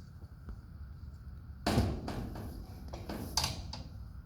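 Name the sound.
horse trailer spring-assisted door being closed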